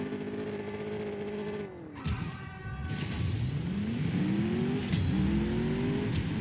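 A Mercedes AMG S 63 Coupe revving hard in the drag racing game CSR2, the engine note climbing, dropping at a gear shift, then rising again through further upshifts, loud and steady with no talk.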